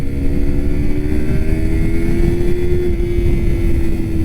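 A 2019 Yamaha R3 ABS motorcycle engine drones loudly and steadily, its pitch rising slightly as it accelerates along a street, with heavy wind rush beneath it.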